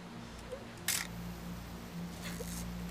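A camera shutter snaps as a selfie is taken in the game What Remains of Edith Finch: a crisp click near the start, a softer second one later, over a low, steady ambient hum.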